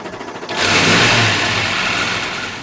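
Naturally aspirated small-block NASCAR engine of about 955 horsepower, built for the street, revs up sharply into a loud roaring burst that peaks and then eases off.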